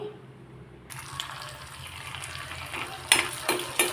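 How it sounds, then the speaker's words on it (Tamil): Mustard seeds, split urad and chana dal, dried red chilies and curry leaves crackle and sizzle in sesame oil, starting abruptly after a quiet opening and building steadily, with a few sharp spits and pops near the end; no talking. "நல்லெண்ணெயில் கடுகு உளுத்தம்பருப்பு கடலைப்பருப்பு வரமிளகா கருகாப்பிலை எல்லாத்தையும் போட்டு வறுக்கிறேன்"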